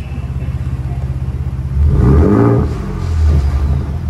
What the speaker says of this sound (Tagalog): Pakinggan natin guys yung exhaust.